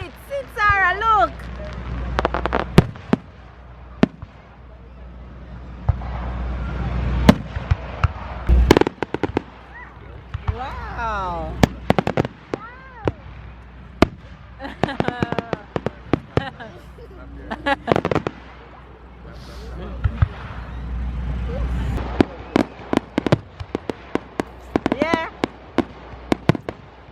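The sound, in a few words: fireworks exploding at a Fourth of July celebration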